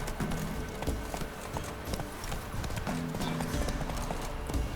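A horse gallops in The Witcher 3 video game, its rapid clip-clop hoofbeats loud and continuous throughout, with a brief whinny and faint game ambience underneath.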